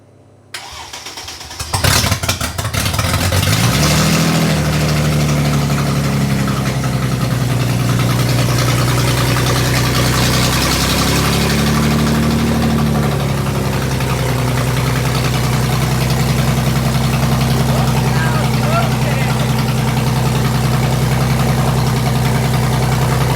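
A Mercedes SLK32 AMG engine cranks on a jump box, catches and revs, then settles into a loud, steady idle that rumbles on without exhaust muffling.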